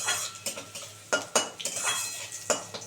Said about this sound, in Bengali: এবার এইটা ভালো করে একটু নেড়ে চেড়ে নিই